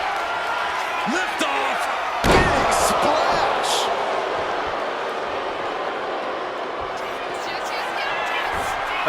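A wrestler lands a big splash onto the ring in a WCW World Heavyweight title match against an opponent. One sharp, heavy impact hits partway through, followed by crowd roar, with commentators talking throughout.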